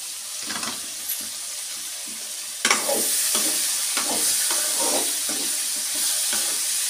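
Thin eggplant slices fry in a hot pan with steady, bright sizzling. Spatula scrapes and stirs come at irregular intervals, and the sizzle swells louder partway through.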